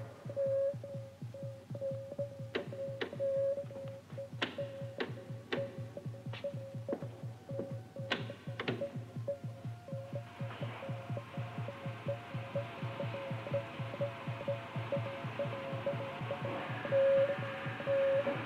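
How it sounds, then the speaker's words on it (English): A sci-fi ray compressor machine starts up in the 1967 film Argoman, a throbbing electronic pulse with a steady tone and sharp repeated clicks, building into a wider hiss as it powers up. "Start the ray compressor."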